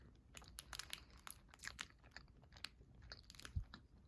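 A cream-filled snack with a soft, chewy bread-like shell being bitten and chewed up close, with repeated moist crunches and mouth sounds in an irregular rhythm, quiet and with no talking.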